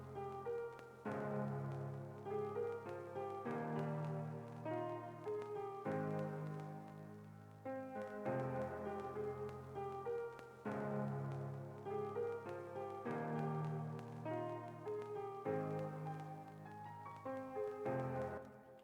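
A layered piano melody with a vintage crackle preset, quiet and steady, slow repeating chord phrases with soft sustained notes and faint background texture, no talking.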